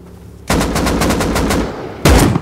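A Thompson submachine gun in a video game firing one long rapid automatic burst, loud and close, followed by a second short burst after a brief gap.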